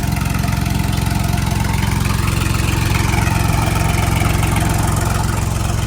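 A tractor engine runs a generator for pumping water, giving a steady, loud, close diesel drone with an even low throb and no pauses.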